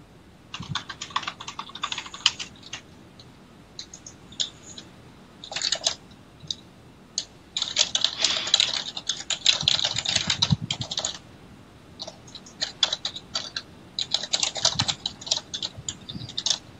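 Rapid keystrokes clatter on a computer keyboard in uneven bursts, with short pauses between runs of typing, close and clear.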